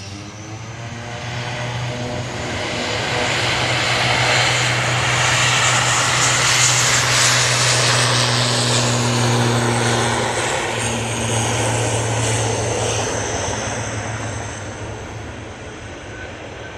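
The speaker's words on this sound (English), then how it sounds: "Lingus ATR now over, going off to Dublin" An Aer Lingus ATR turboprop departs Manchester Airport for Dublin, its steady propeller drone and engine hum swelling to a loud peak overhead, then slowly fading, with a low tonal whine running throughout.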